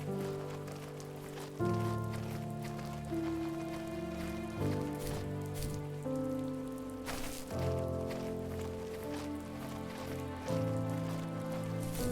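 Rain falls in the video game The First Tree as a steady, soft patter that sits quietly under sustained tonal game music throughout.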